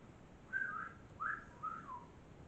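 A person whistles softly in a few short rising and falling notes, faint and fairly close, alone over a quiet room background.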